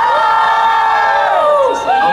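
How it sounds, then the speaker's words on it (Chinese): Hundreds of concert fans at a GENBLUE fan-meeting event scream together to score a performer, a loud, shrill, sustained crowd shriek that holds steady before dipping briefly near the end. "我们来用尖叫声来看分数"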